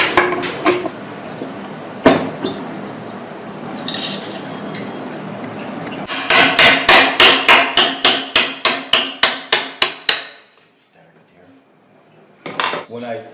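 A hammer taps bolts on a generator core that slides on shims, first in scattered metallic knocks and clinks, then in a fast run of about a dozen ringing strikes, loud and close, followed by a pause and another short burst.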